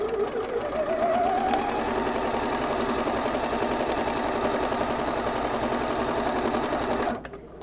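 A sewing machine runs a straight quilting seam with a closed presser foot and seam guide, its needle chattering in a fast, steady, close rhythm that speeds up at the start and stops abruptly at the end.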